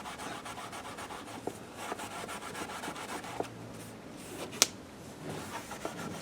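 A cloth scrubs a dirty window frame in quick, rough strokes, a soft close rubbing rhythm with occasional light knocks and squeaks, quiet and unaccompanied by talk.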